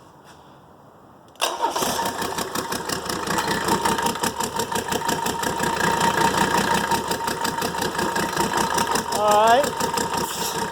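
Mercedes OM617 diesel engine cranking and catching after glow plugs are heated, then settling into a steady, loud, clattering idle with a rapid even pulse; someone speaks briefly before it fires.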